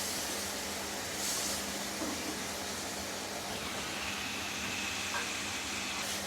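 Chopped naga chili stalk greens tip into hot oil already holding garlic and green chili, giving a steady broadband sizzle across the pan that stays fairly even throughout, with faint stirring clatter and no talk.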